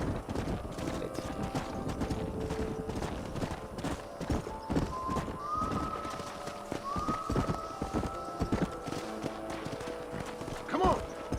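Horses gallop and neigh in the video game Red Dead Redemption 2 during farm work, with steady rhythmic hoofbeats throughout, a couple of drawn-out whinnies partway in and a sharp neigh near the end, while someone talks over them.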